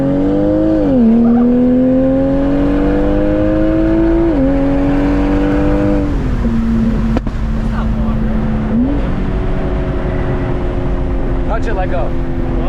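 A BMW M340 engine revs hard toward redline in several rising and falling sweeps, loud and close from inside the car, with people talking over it.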